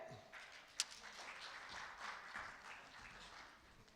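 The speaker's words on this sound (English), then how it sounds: "Give them a clap." Audience applause welcoming speakers to the stage at a conference session, a steady wash of clapping from a seated crowd with one sharp, close clap standing out near the start.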